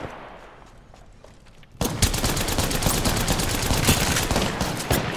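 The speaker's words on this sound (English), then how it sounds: "I'm getting shot at." Heavy Apex Legends gunfire starts abruptly after a quieter stretch, then sustains as loud, rapid overlapping shots and bursts close up, with no talking.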